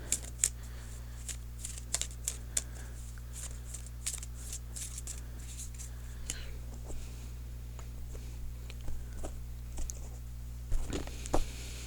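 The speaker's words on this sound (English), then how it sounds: "Now, let me shuffle for an outcome card." Tarot cards are shuffled close up, with soft riffling and sharp taps and clicks coming in irregular bursts over a quiet room hum.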